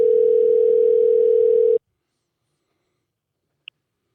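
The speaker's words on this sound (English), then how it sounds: "A ringtone." A single steady ringback tone sounds while a telephone call is being placed, holding loud and even for nearly two seconds before cutting off into silence, with one tiny faint blip afterward.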